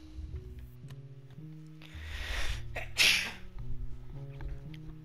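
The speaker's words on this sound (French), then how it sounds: "Éternuer." A video game character in Shady Part of Me sneezes once, a short sharp burst over soft piano music that plays throughout.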